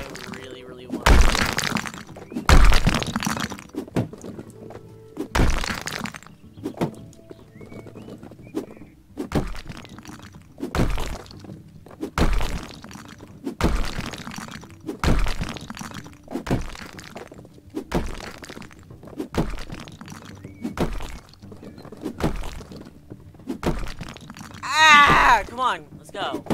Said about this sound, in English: God, how long have we been destroying walls?